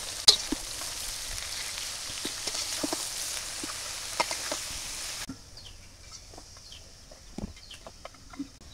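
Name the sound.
vegetable bhaji frying with turmeric and salt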